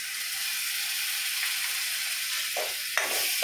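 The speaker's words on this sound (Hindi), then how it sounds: "अब इसे हम 3 से 4 मिनट भून लेते हैं।" Prawns fry in a pan with a paste of poppy seed, cumin, tomato, garlic and ginger, giving a steady, loud sizzling hiss throughout, with a few stirring scrapes near the end.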